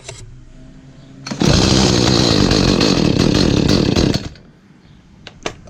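An Echo CS310 chainsaw, just repaired, fires up after a short pause and runs loud and close for about three seconds before cutting out, followed by faint knocks.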